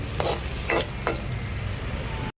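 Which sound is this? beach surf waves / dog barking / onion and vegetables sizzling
onion and vegetables sizzling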